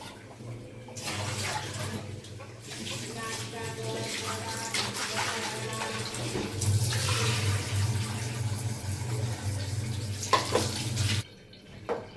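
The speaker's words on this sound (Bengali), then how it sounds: "গোশতটা বললাম এখন ভালো করে ধুয়ে নিলাম।" Beef is washed under running water, a steady splashing stream that swells and ebbs for about eleven seconds before cutting off abruptly.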